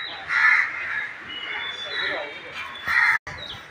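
Several crows caw loudly and close by in a few harsh bursts, with a sharp knock near the end, heard outdoors around a house.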